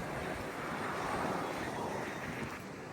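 Strong, cold winter wind in Japan roars steadily and buffets the microphone for the whole stretch, a loud broadband rush with no voices.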